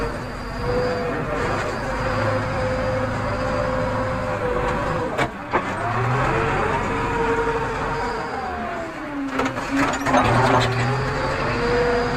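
A JCB 3DX backhoe loader's diesel engine drones steadily during dozing work, its pitch rising and falling as the load changes, with a few knocks and clanks heard nearby.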